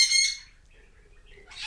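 Pet birds in a home bird room give a sharp, near squawk at the start, followed by a quiet pause and the start of another harsh call.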